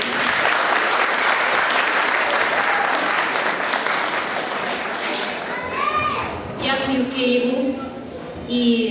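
A school crowd applauds loudly and steadily for several seconds, with children's voices rising over the clapping toward the end.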